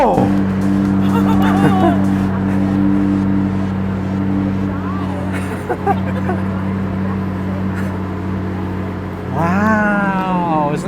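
McLaren 675LT V8 heard from inside the cabin, a steady loud idle drone that climbs in a rising rev sweep near the end, with a voice talking briefly over it.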